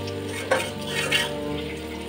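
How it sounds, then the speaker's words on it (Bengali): Banana flower fritters made with rice flour fry in oil, giving a soft, steady sizzle with a couple of light utensil clinks close by. "এই তেলে দিয়ে এখন আমি ভালোভাবে এই যে ভেজে ভেজে নেব।"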